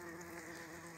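A steady, faint drone of honey bees buzzing at a hive during winter feeding and care after a bumblebee raid, with an even, continuous hum and no voices.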